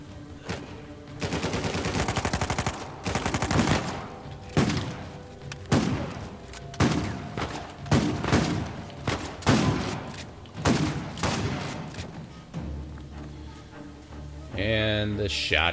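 Shotgun blasts in the video game Uncharted 4, a rapid run of loud booming shots with near-continuous gunfire, followed by a quieter stretch where a person talks briefly.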